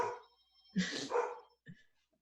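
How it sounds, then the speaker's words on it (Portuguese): A dog barks indoors in a few sharp, close bursts, a short run of barks followed by one quieter yip, with no one speaking over it. "Ai, cachorro chato."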